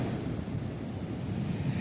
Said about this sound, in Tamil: சரியான கடல் சீற்றம்